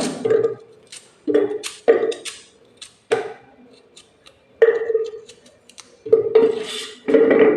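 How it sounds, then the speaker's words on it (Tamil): Sliced cucumber goes into a glass for a summer juice, giving a series of sharp clinks and clatters against the glass, spaced irregularly with brief quiet gaps between them. "இப்போ வெள்ளரிக்காய் இந்த மாதிரி ஸ்லைஸ் பண்ணி போட்டுக்கோங்க"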